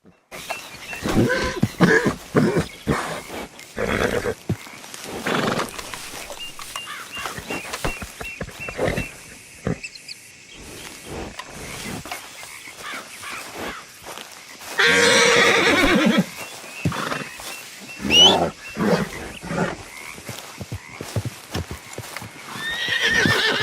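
A Dark Bay Turkoman horse in Red Dead Redemption 2 whinnies loudly amid steady clip-clopping hooves, with a sharp burst of noise midway and scattered thumps throughout.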